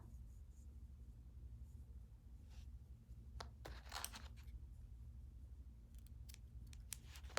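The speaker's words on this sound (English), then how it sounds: "then I cut it off so that thread is secure" Scissors snip yarn thread on a frame loom in several sharp, close cuts and clicks, scattered irregularly over a low steady hum, with no one speaking.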